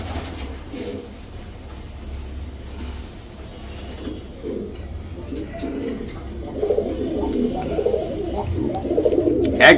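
A pair of red desi Bombay pigeons coo in repeated low, rolling bursts nearby, growing louder and busier toward the end against steady background hum.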